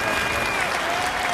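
A church congregation breaks into loud, dense applause, many hands clapping at once in a continuous burst close at hand.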